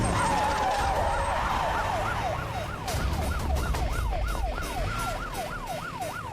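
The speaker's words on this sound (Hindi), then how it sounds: "ये तो पुलिस का सायरन है।" Emergency vehicle siren in an Indian action film, a loud, fast up-and-down wail that repeats steadily throughout with a constant background rumble and no speech.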